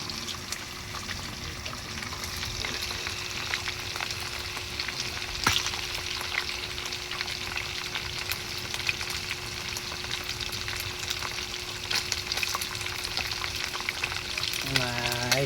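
Pieces of chicken frying in a pan of hot oil, giving a steady, dense crackling sizzle that runs throughout at close range, with a brief knock midway and no talking.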